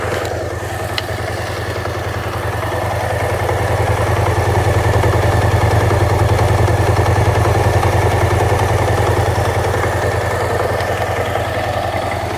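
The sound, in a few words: BMW C600 Sport scooter with Akrapovic exhaust running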